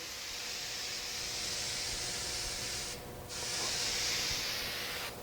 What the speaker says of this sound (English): When you spray these with 3M, at this point, you want to be generous with your spray.